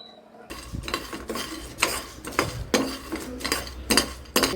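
Pumpkin seeds going into a heating pan and being stirred, a string of clattering, scraping hits of utensil on metal roughly every half second, with a light sizzle beneath.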